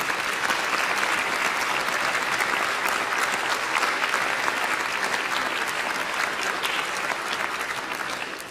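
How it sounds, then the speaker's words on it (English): A concert audience at a Music at Noon event applauds volunteers and supporters with sustained, dense clapping that holds steady for several seconds and then tapers slightly at the end. "Please give a round of applause for the volunteers and supporters who have helped."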